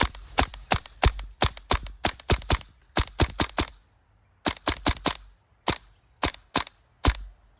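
A PP2K airsoft gas pistol fires rapid semi-auto shots, loud sharp pops in quick strings with short pauses between bursts, close by and without talk.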